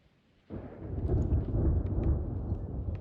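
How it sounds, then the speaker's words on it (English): Thunder from a storm in the Sea of Thieves pirate video game sets in abruptly as a deep, loud, sustained rumble that rolls on steadily, with faint rain-like hiss above it and no talk. "Is that bloody storm heading our way again?"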